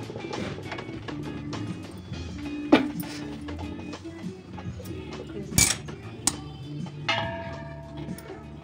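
A pot of kharvas, a buffalo colostrum pudding, is lifted off a gas stove, with scattered metallic clinks, taps and scraping knocks at irregular intervals, close and fairly soft against a quiet kitchen background.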